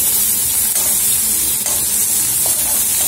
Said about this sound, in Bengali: আনাজটা ভাজতে দিয়েছি, ভাজছি